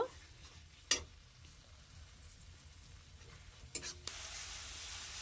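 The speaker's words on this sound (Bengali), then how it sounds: "যতক্ষণ না মশলা থেকে তেল ছাড়বে ততক্ষণ তো কষিয়ে নেবে" Spice paste frying in a small amount of oil, quiet at first with a few sharp stirring scrapes, then a brighter sizzle swelling up near the end.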